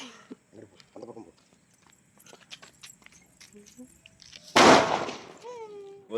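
A frog firecracker goes off at a Diwali celebration with one loud, close crackling blast after scattered small clicks and pops, while people talk nearby.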